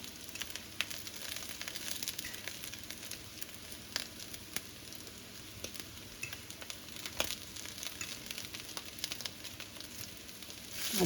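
Southern fried fish cakes made with cornmeal and onions sizzle steadily in a hot pan, a dense crackling frying hiss with scattered sharper pops and spits throughout, close and continuous with no voices.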